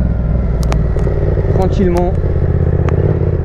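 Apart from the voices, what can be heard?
Yamaha Tracer MT-07 motorcycle riding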